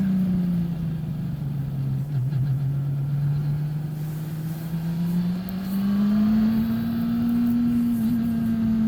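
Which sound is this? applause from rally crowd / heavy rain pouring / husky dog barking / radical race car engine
radical race car engine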